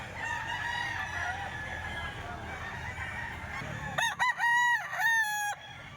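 At a busy Sunday chicken market, a rooster crows loudly and close over a constant low crowd murmur and scattered clucking, preceded by quieter bird calls in the background.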